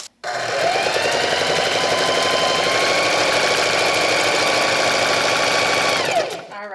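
A household sewing machine stitching a circle of vinyl runs loud and steady in a fast, even motor whir with rapid needle clatter, starting abruptly and stopping just before the end, with no talking.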